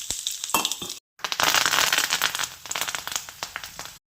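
Tempering seeds, garlic and onion hit hot oil in a pan for bitter gourd fry, giving a loud burst of sizzling with sharp pops and crackles and a brief gap.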